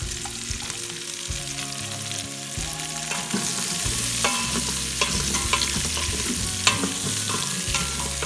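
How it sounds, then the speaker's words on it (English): Vegetables and garlic sizzle and fry steadily in a pan used for beef pot roast, with stirring scrapes and clinks running throughout, close and moderately loud without any talk. "Brown my vegetables a little bit in the same pan"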